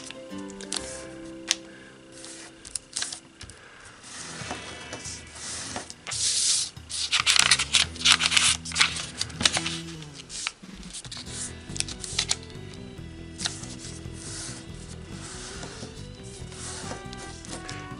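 Paper folded and creased by hand for an origami cube spinner gives crisp crackles, taps and rustling swishes, faint and close, bunched into a busier burst of handling midway.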